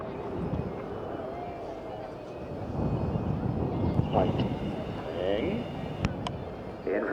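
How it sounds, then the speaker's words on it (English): Red Arrows jets fly a line-abreast formation at the RIAT airshow, a broad distant roar sweeping over wind noise while a commentator talks throughout. "Red 1 now moving the aircraft into one of our most technically difficult formations to fly"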